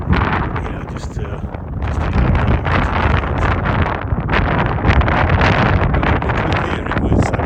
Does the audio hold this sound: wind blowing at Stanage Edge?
yes